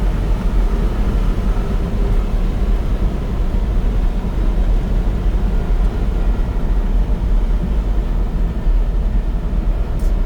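Daihatsu Hijet dump truck driving at speed, around 90 km/h: a loud, steady low engine and road rumble with continuous wind and tyre noise from inside the cab, unbroken throughout.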